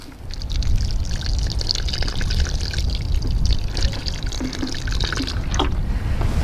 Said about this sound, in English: now I'm gonna give it a little bit water because the soil is a little bit kind of dry